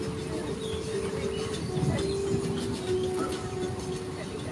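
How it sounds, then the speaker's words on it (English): Tram ride through Jurong Bird Park in Singapore, a faint steady rolling rumble with a sustained mechanical whine, birds faintly calling in the background. "Welcome back on our tram ride. We are now heading back to tram station 1."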